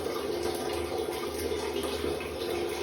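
Hot water from a Haier 15-litre E-Process electric geyser pours steadily from the outlet, a loud, even rush of running water close by with no speech.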